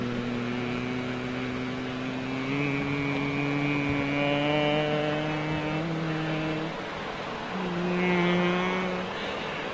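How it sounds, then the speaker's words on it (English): A Royal Canadian Air Force C-17 at London Heathrow Airport, giving a loud, steady jet drone with sustained whining tones that shift in pitch, swelling slightly midway and near the end, with no talking. "A C17 with the Canadian Air Force"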